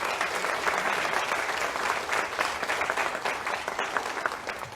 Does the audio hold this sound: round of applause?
yes